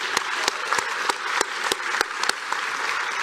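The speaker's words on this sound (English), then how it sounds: "Please give her a big round of applause." Applause from an audience at an alumni awards ceremony: steady, dense clapping with sharp individual claps standing out, continuous for the whole stretch.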